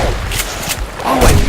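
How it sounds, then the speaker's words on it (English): A single gunshot fired at a wolf in the survival video game Subsistence, a near, brief burst near the end over steady outdoor game ambience. "I'm gonna get ready to shoot it just in case it decides to jump down the river with me"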